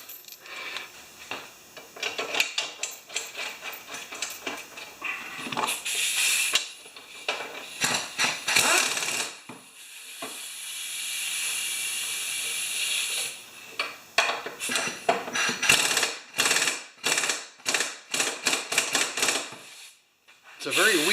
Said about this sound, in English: I'm going to clean up this bolt on that wire brush too